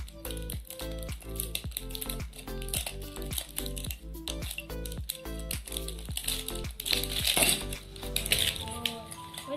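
Plastic surprise eggs with pony toys inside being opened, a rapid run of crinkling, clicking and crackling plastic handling sounds, close and busy, with faint speech-like sounds in the background.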